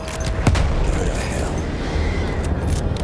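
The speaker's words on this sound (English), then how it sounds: "they're still firing at me" Enemy gunfire and booming explosions in Battlefield 1, a dense battlefield wash with one sharp loud blast near the start and continuous low rumble throughout.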